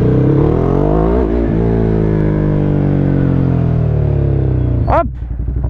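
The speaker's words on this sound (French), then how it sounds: "Le moteur est hyper vivant, incroyable." Ducati Hypermotard 821 motorcycle engine pulling hard on the road, a loud steady growl that rises and falls in pitch, then a sharp rev change and a drop in level near the end, with wind rush throughout.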